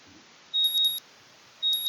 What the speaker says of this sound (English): The sound of my alarm brings me out of a dream